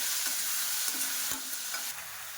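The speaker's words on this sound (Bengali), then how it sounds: "এবার লাউ আর আলুটা ভেজে নেব ভালো করে" Bottle gourd and new potato pieces frying in oil tempered with whole cumin, five-spice and dry red chilli, a dense continuous sizzle with a few light spatula strokes stirring them.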